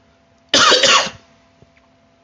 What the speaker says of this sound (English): my apologies if y'all hear me cough here and there